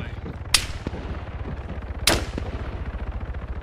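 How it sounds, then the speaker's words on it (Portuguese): Two sharp gunshots in the video game Arma 3 crack about a second and a half apart over a constant low engine hum, with faint softer pops between. "Esse tiro é do bunker, parece."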